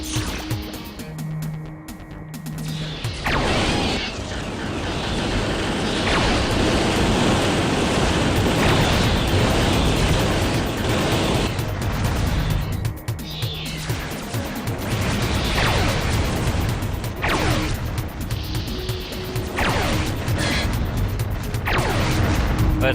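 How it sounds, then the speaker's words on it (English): Fusion cannon fire in the Descent shooter game: loud, dense bursts and crashing blasts repeat over about twenty seconds, layered on a constant roaring noise bed. "I love the fusion cannon, but I don't use it too much because I have a hard time charging it and aiming it really well."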